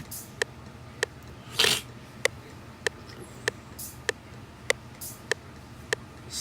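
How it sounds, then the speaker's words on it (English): A sparse, quiet pattern of crisp ticking hits repeats at a steady pulse in a 2000s-style beat, with a few longer, brighter open hi-hat washes ringing out between them. "And the open hat pattern sounds like this."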